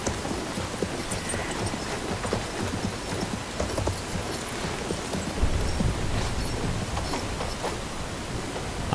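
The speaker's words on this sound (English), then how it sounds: "I hope I get to keep the horse" A horse galloping in the Battlefield 1 video game, steady rapid hoofbeats thudding close under a broad noisy wash, continuing throughout.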